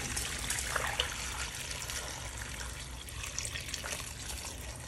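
Water is poured into a pot holding a pork leg, salt and chicken powder. It makes a continuous close trickling and splashing for the whole stretch, with no voices.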